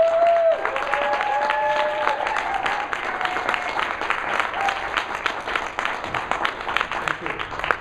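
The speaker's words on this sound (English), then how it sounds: "great big round of applause to Michael Jude." An indoor business seminar audience in Denver gives a steady round of clapping for a speaker. The applause is dense and continuous but moderately soft, with voices over it.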